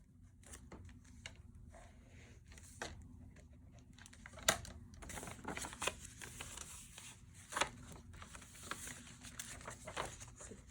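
Paper being torn out of an old book for a junk journal: repeated rough ripping and rustling bursts, fairly close and moderately loud, with a steady low hum underneath and no talking.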